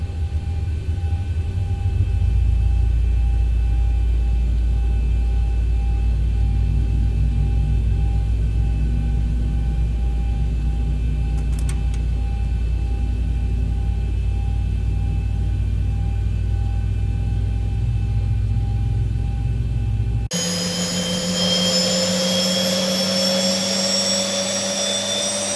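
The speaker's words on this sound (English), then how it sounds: "We will start engine number 2 first, since it will power up some hydraulics that we need first." Engine number two of a large airliner spools up as a constant loud low rumble and whine for about twenty seconds, then shifts abruptly to rising high-pitched turbine tones.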